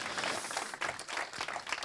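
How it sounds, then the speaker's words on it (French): Applause from an audience for the Cassandre finalists at an AI and HR awards ceremony, a dense, steady wash of many hands clapping together, loud and continuous without a break. "On peut les applaudir déjà."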